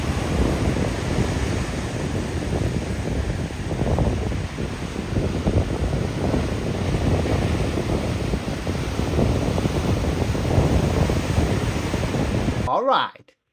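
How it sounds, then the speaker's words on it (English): Waves hitting the rocks at a secluded beach near Esperance, Western Australia: a steady, loud wash of surf mixed with wind rush, continuous with no talk, ending abruptly. "take a moment to enjoy the sound of the waves hitting the rocks"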